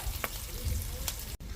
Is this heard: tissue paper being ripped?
no